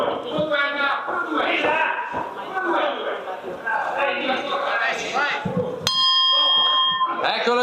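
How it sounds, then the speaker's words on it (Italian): A boxing gong strikes once, sharp and ringing, ending the first of three rounds in a regional women's amateur tournament final, cutting through loud crowd shouting and cheering, then sustaining a bright metallic hum as the noise continues. "Eccolo il gong che chiude la prima delle 3 riprese tra Anna Pimazzoni e Chiara Marcandoro"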